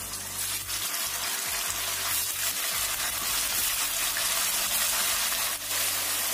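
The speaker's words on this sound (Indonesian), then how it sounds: "ini kita goreng tahunya sampai matang" Tofu deep fries in plenty of hot oil in a wok over medium heat, a loud, dense, continuous sizzle and crackle that holds steady throughout with no voices.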